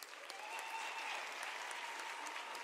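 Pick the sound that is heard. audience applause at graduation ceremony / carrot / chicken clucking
audience applause at graduation ceremony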